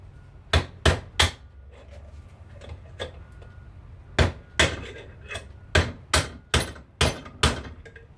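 Sharp hammer blows ring out close by while tearing down a bike rim, first three quick strikes, a pause, then a steady series of about eight more.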